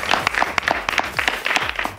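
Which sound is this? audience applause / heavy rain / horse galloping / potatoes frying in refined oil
audience applause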